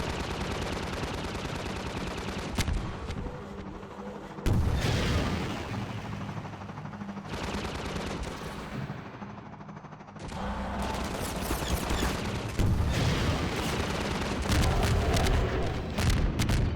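Rocket launches and explosions in the Half-Life 2 Episode 2 video game, a loud dense barrage of repeated blasts and rumbling booms that continue for the whole stretch with brief lulls between bursts.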